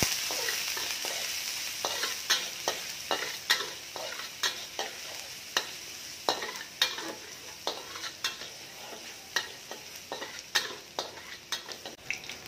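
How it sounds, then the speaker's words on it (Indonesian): Ginger and spring onion stir-frying in a pan with shallots and garlic, a steady close sizzle broken by repeated sharp scrapes and clacks of a utensil against the pan throughout. "jahe, dan juga nih sedikit daun bawang. Nah, kita tumis sampai lama."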